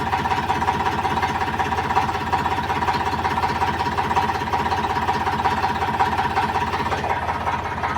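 A tractor engine idles close by in a steady, even chug with a slight knocking pulse that continues unchanged throughout, and no one speaks.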